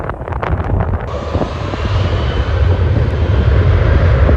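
An airplane at Schiphol airport roars loudly and close, a broad steady engine rush that swells after a second and holds, with scattered crackling at the start and no talk.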